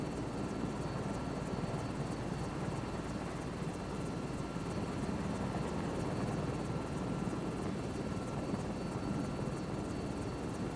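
A helicopter in Microsoft Flight Simulator 2024 on PlayStation 5 Pro, a steady rapid rotor chop with a continuous engine whine, even and unbroken throughout, fairly quiet with no talk.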